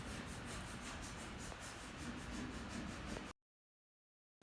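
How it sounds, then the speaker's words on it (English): Hand sanding on a 1964 Ford Fairlane race car body gives a quiet, rhythmic scrubbing rasp in quick regular strokes for about three seconds before the sound cuts out abruptly. "He's gonna finish sanding."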